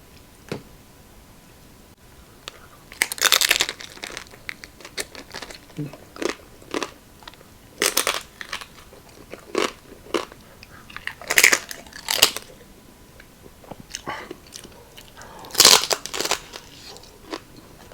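Crunchy, crackling bites and chewing of spicy lechon belly and crispy chicken neck at a mukbang, with loud crisp crunches coming in irregular bursts close up, separated by quieter chewing.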